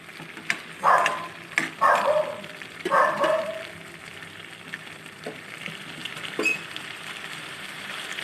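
Fried fish heads dropped into a pan of cooking greens, sharp sizzling bursts with each piece added, then a quieter ongoing crackle.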